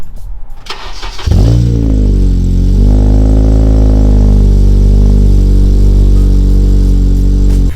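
A 9th gen car's engine cranks to life and then holds a loud, steady close-up drone with rising revs, with no voices over it.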